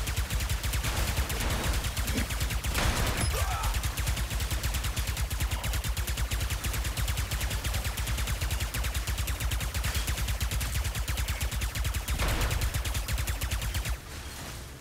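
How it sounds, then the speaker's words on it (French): Rapid, sustained submachine gun fire from a small machine gun in the Ratchet & Clank video game, a dense continuous rattle of shots that fills the stretch and drops away abruptly at the end. "Surtout avec votre petite mitraillette."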